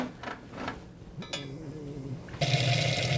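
Water runs from a hose into a water ice batch machine, a steady broadband rush that strengthens and grows louder partway through, with a few faint clinks and knocks before the flow picks up.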